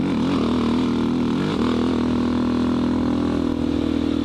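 A 400cc motorcycle engine runs nearby with a loud, steady drone. Its pitch wavers briefly and settles to a constant hum, with no talking over it.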